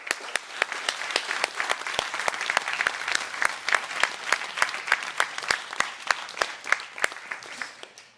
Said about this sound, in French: j'aimerais qu'on leur fasse un gros merci puis qu'on les applaudisse un petit peu